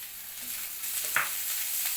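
Corn kernels are tossed into a pan with browned onion, giving a steady hissing sizzle with a single clear clink of a utensil partway through, close and moderately loud.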